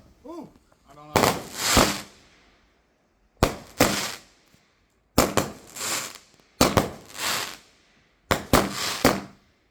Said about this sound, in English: Do you see how fireworks is going out?